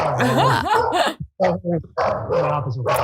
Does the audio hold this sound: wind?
no